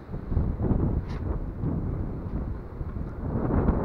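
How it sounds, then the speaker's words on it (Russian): Strong wind roars and buffets nearby while walking outdoors in Poland, a continuous rumbling rush with gusty swells rising and falling. "Видите, какой ветер. Слышите, вернее. Шумит."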